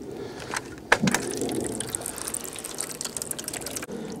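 Water drains from a plastic jug shot with a .380 hollow-point round outdoors, a continuous trickle and splash after a sharp impact near the start, fairly close.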